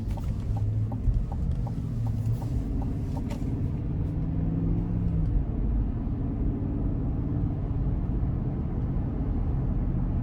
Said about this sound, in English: take this Tahoe RST out on the road for a test drive